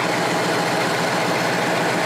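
A big 455 V8 engine in a 1974 Pontiac Firebird Trans Am Super Duty idles loudly and close by, a dense, constant rumble with no pauses or voices.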